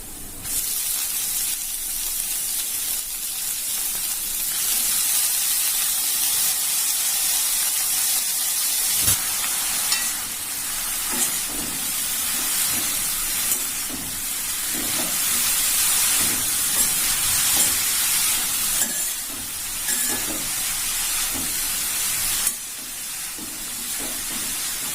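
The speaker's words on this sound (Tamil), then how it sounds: "கீரை கொஞ்சம் வதங்கட்டும்." Spinach greens sauté with onions in a pan for a Nagercoil-style thuvaran, a continuous soft sizzling hiss with occasional faint stirring knocks and no voices.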